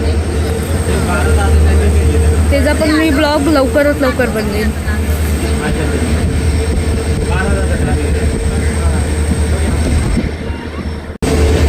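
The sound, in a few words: CSMT–Dhule express train with diesel locomotive passing station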